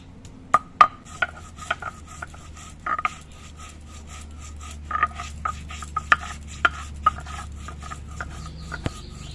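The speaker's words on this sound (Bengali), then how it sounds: "এদিকে আমি অল্প একটু আদা আর অল্প একটু রাঁধুনি আমি বেটে নিচ্ছি" Ginger and radhuni spice are ground into a paste, producing scattered sharp clicks and knocks over a low, steady scraping rub, close and moderately loud.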